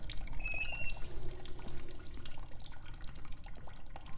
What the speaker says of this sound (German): Ich mach mal den Wasserhahn auf.